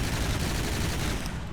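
Stagger-fired weapons in From the Depths shooting in a dense, continuous volley, a loud steady wall of overlapping shots with no gaps and no voices.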